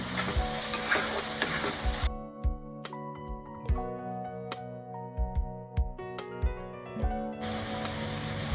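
Veg Manchurian mixed with tomato ketchup sizzles in a hot pan, a spoon stirring it in steady repeated scrapes and knocks over a constant frying hiss, close and clear with no talking.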